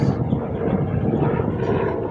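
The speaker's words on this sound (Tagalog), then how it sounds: "grabe ng hangin" Strong wind roars against the microphone in a continuous low rumble, loud and unbroken, with no voices.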